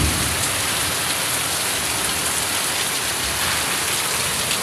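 A hard rainy-season downpour roars on without pause, a loud, even wash of raindrops drumming on nearby surfaces, with no talking.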